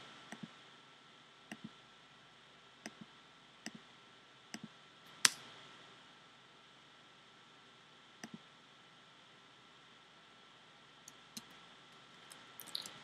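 Scattered single keystrokes on a computer keyboard while setting up an email list form, faint, sparse clicks spaced a second or more apart over a quiet hiss, with no talk.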